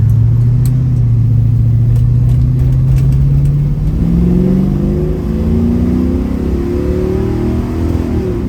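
A 1971 Chevrolet Nova LS engine hums steadily on a highway, then climbs in pitch as it accelerates through the gears to 70 mph, loud and close, with road rumble underneath.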